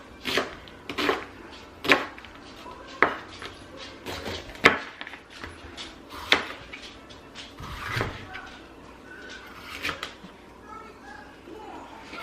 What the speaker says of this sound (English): For the onion, we're gonna cut the onion in half.